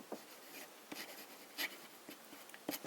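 Italic nib fountain pen scratching across paper in short, quiet strokes with brief pauses between letters, close and faint, with no talking.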